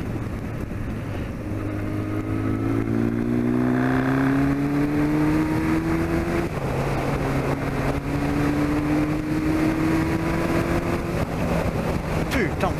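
A modified motorcycle engine revs up in two long rising pulls, its pitch climbing steadily, with a brief shift between them and a constant rumbling roar throughout.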